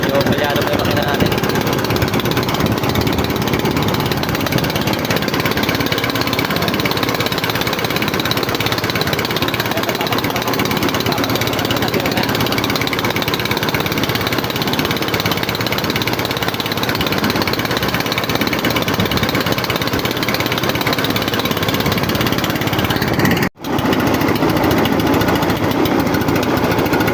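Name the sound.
misfiring fishing boat engine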